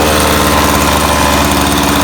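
A John Deere gas string trimmer engine idles with a steady, loud, close putter and a fast even low pulse, running without pause and with no voices.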